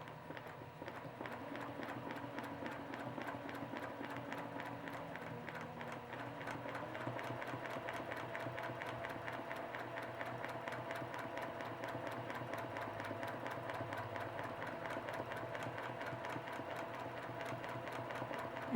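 A sewing machine stitches lettering on a quilt, running in a steady fast mechanical rattle that stays even and continuous throughout, close and moderately quiet.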